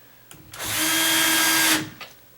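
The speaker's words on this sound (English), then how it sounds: "using a battery-operated hand drill" A battery-operated hand drill drives a screw while sagging double doors are repaired, a single close, loud whirring burst of about a second with brief trigger blips before and after.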